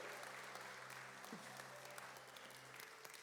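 Steady applause from a church congregation during a Portuguese-language service, a dense even wash of hands clapping throughout, fairly quiet and distant, with a faint voice briefly heard over it.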